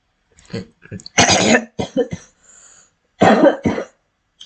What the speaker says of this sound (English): I'm sad for hearing my cough